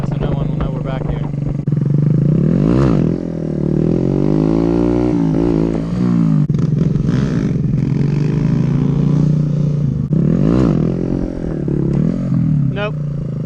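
Motorcycles ride behind a building, engines rising and falling in revs with scraping clatter, while people talk over the machine noise.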